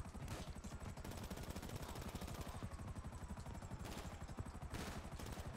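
Rapid automatic gunfire from GTA Online rattles in dense, continuous bursts, with fast repeated shots layered over each other and no pauses for the whole stretch.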